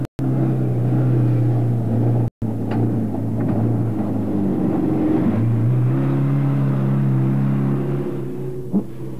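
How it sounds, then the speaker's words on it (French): Off-road vehicles from the 1991 Camel Trophy in Tanzania drive through tall elephant grass, giving a sustained, loud low engine drone with shifting pitch and two brief cuts to silence. "Les premières voitures passent facilement"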